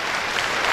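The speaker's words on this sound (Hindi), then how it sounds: "तालियों के गड़गड़ाहट हमारे महानुभाव का स्वागत हो रहा है।" An audience at a Rajasthani stage event claps to welcome a guest, producing a brief burst of dense, steady applause from many hands, full and close, with no voices clearly standing out.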